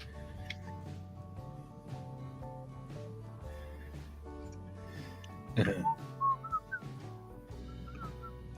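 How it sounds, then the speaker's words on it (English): A few short whistled notes rise briefly over a steady background of music, quiet and somewhat distant. "Whistling counts as well"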